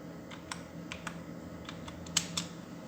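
Sparse keystrokes on a computer keyboard while entering text in an Excel spreadsheet, a handful of separate clicks over a low steady hum, quiet and close.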